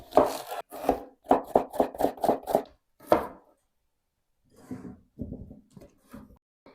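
A knife cuts a peeled, washed onion into thin half-rings on a board: a fast run of crisp, close chopping strokes, a pause, then a few quieter, slower cuts.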